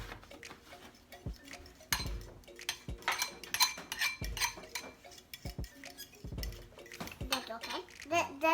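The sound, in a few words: mixing milk and egg batter for French toast in a bowl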